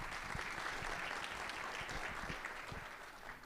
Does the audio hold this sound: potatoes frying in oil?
no